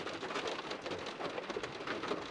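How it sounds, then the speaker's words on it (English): Steady rain pours continuously, a dense hiss of drops falling on surfaces, heard close and alone. "It's nice listening to the rain."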